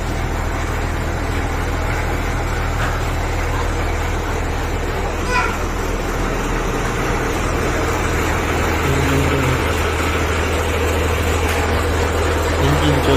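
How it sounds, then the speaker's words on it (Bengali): A river launch's engine runs on a Sundarbans boat tour, a steady low drone and hum that continues throughout, with people talking faintly over it. "ইঞ্জিন চলছে।"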